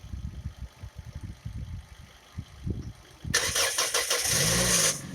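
A car with a weak battery cranks during a jump-start, with several uneven starter turns followed by the engine catching and roaring into a loud, steady run close to the microphone.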